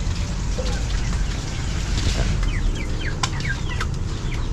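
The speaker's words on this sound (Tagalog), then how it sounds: "At tapos na po tayo nagpakain po ng ating alagang mga manok." Pet chickens cluck softly after being fed, short scattered calls from several birds over a steady low outdoor background.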